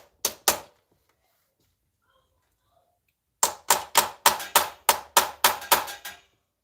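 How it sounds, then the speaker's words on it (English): A hammer swung left-handed while wrenching on a car gives two sharp blows, then a pause, then a rapid run of about ten loud, close, evenly spaced strikes. "Let's do some left-handed hammer action."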